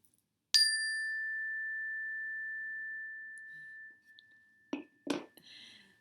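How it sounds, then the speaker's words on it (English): A small meditation bell is struck once, ringing out with a clear, sustained tone that fades slowly over several seconds in a quiet room, followed by a few soft handling clicks. "So I am going to start with the bell today."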